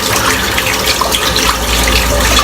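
Tap water runs steadily and loudly, a dense continuous splashing gush, as soap is rinsed out under the faucet.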